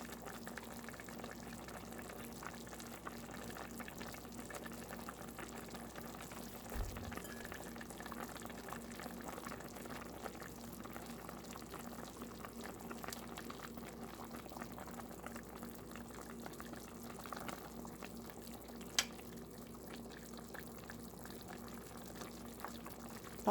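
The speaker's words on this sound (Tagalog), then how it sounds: "Pakuluan pa ng pakuluan." A pot of beef stew bubbles at a steady boil, a soft continuous simmering hiss with faint pops, close by and undisturbed by talk throughout.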